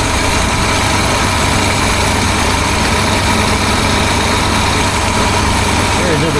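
Steady, dense rumble of a 1976 BMW 2002 engine idling near 1,000 RPM during carburetor tuning, close and loud throughout with no change in pitch.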